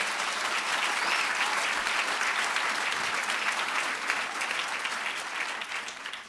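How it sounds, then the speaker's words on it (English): Sustained, dense applause fills a crowd at a state transportation funding announcement, honoring the Lieutenant Governor, loud and even throughout. "Let's give her a round of applause."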